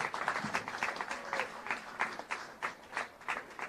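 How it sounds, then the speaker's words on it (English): Applause from guests at a Sukkot evening gathering inside a sukkah, a faint burst of clapping that pulses unevenly, with a quiet voice now and then. "Give Liel a big round of applause."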